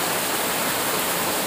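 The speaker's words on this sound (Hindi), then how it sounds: "ये देखिए कितना अच्छा झरना बह रहा है।" A waterfall at Robbers Cave pours over rocks as a steady, dense roar of rushing water, close and unbroken, with no voices.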